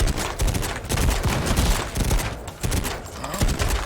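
Rapid, dense bursts of submachine gun fire from the video game MADNESS: Project Nexus rattle on continuously and loud through the whole stretch, with brief dips between volleys.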